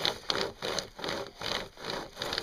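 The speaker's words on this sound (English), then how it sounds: "It's just basically a little chainsaw with straps on it" A small pocket chainsaw, a chain with straps on each end, is pulled back and forth through wood at a snowy campsite. It rasps in about five steady, rhythmic strokes, cutting in both directions, close and moderately loud.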